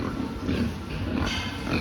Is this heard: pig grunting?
yes